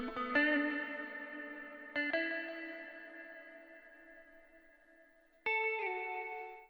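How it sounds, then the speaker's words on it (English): Electric guitar part run through effects processing, three separate chord strikes that ring out with long, shimmering, chorus-like sustain and echo, playing alone. "This is what I played on the guitar. I'm gonna just let you hear it"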